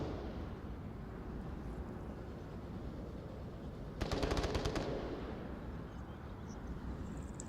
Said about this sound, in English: MCX fire.